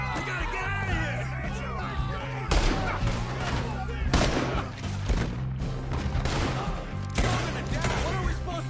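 Shots ring out in a Red Dead Redemption 2 shootout, several loud cracks and booms spaced across the stretch over a steady low music bed, with yelling voices mixed in.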